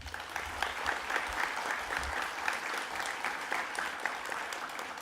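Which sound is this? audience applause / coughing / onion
audience applause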